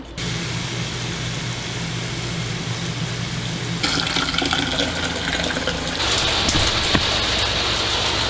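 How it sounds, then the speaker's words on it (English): Steady broadband rush of water running from every faucet in an RV, pumped from the freshwater tank, continuous and fairly loud, growing brighter and stronger partway through as more flow joins in. "I have every faucet on in the RV, and the pressure is really good with that pump pumping all this water out"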